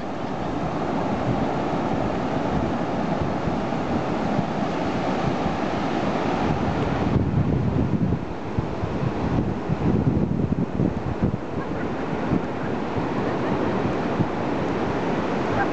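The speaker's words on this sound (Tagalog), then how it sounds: "Ganda ng dagat, no?" Sea waves washing onto a beach shore, a steady loud rush of surf with wind buffeting the microphone throughout, no voices.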